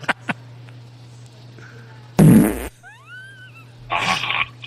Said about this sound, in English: The farts are still going.